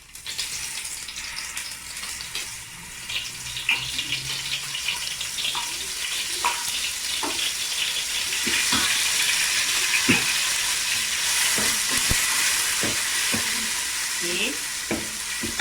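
Ground spice paste for a stingray asam pedas hits hot oil and fries with a bright, hissing sizzle that builds and holds, punctuated by repeated stirring knocks, and a voice speaks briefly.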